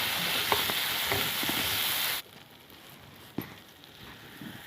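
Potatoes frying in a pan with jaluk pepper powder, a loud steady sizzle for about two seconds, then dropping to a faint simmer with a single clack near the end.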